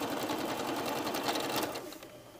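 A sewing machine stitches a blouse collar in a quiet, steady run of rapid mechanical stitching that eases off near the end.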